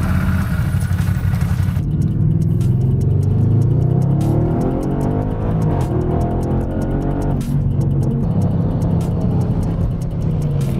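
A 2010s Audi RS6 C7 accelerates hard on wet asphalt, its engine rising through gears in loud, close sweeps with brief dips at each shift and tire hiss from the wet road, no talk.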